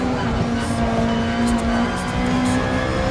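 A Lexus race car from Japan's GT championship in Gran Turismo Sport, heard from the cockpit: a steady, loud engine drone with a strong sustained tone that holds for the whole stretch and never drops away.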